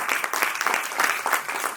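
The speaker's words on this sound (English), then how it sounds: "May we have a round of applause." Dense, close applause from an audience at a cultural evening event fills the brief moment evenly, with no talk over it.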